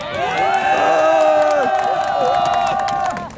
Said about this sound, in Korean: 그런 차원에서 저희 박수 한번 치고 시작하도록 하겠습니다.